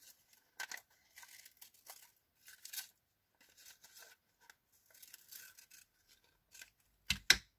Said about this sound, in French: je vais reprendre mes ciseaux avec la bague